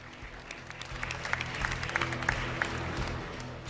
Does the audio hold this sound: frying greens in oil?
no